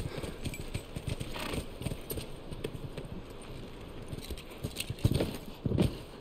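Horse hooves galloping in the video game The Last of Us Part II, a steady run of dense thudding hoofbeats carried throughout, fairly close, with a few louder strikes near the end.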